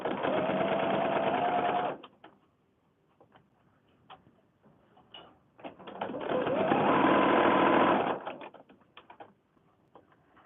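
A sewing machine runs in two sustained bursts, stitching along a line on fabric for a handmade fabric book, loud and close with brief handling and pin-fiddling noises in the quiet gap between.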